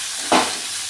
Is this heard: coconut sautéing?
yes